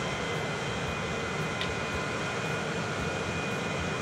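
Cargo aircraft in the video game Transport Fever 2 droning through the sky, a constant broad engine roar with no breaks, moderately quiet and steady throughout.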